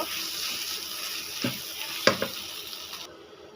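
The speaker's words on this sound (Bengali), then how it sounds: "এটা মিক্স করে আমি আরও 5 মিনিট ভেজে নেব।" Chicken samosa filling mixed with mashed potato fries steadily in a pan, a continuous sizzle broken by a few stirring scrapes and clinks, close and alone without talk.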